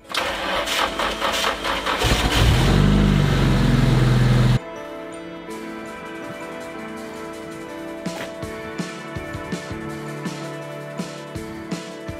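Nissan S13 drift car engine cranks and fires, then runs loud and rough for a couple of seconds before cutting off abruptly, followed by quieter clicks and handling noises close by.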